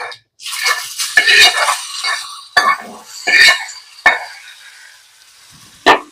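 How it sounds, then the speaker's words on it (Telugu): Hot tempering with asafoetida hits a bowl of yogurt for eggplant chutney, giving a brief sizzle among sharp clinks and scrapes of a metal pan and spoon, close and loud with quiet gaps between. "తాలింపు రెడీ అయింది ఈ పెరుగులో వేసేసుకుందాం"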